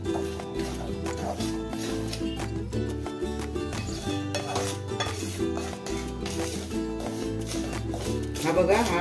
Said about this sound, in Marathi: त्याच्यात हा दोन वाट्या रवा मी असं सुकाच भाजून घेणार आहे, मध्यम आचेवर भाजून घेणार आहे मी